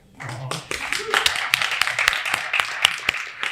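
An audience at a talk on the metaverse claps in scattered, sharp hand claps that build into a loose, uneven round of clapping after a brief murmur.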